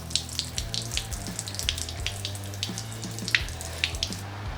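Fresh tap water pours steadily into a 21-litre water tank fitted to a Nissan NP300 Navara, a continuous close gurgling flow with small irregular splashes throughout, no voices.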